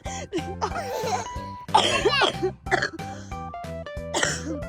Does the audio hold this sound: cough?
yes